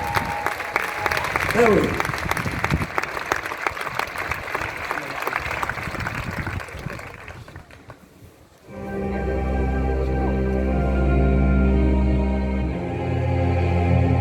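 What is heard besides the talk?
concert audience applauding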